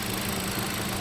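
A 2018 Hyundai Accent four-door with a Kappa gasoline engine and CVT runs steadily at idle, a close, even mechanical hum with a faint vibrating rattle and no voices.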